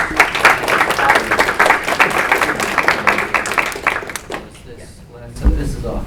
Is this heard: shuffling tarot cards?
no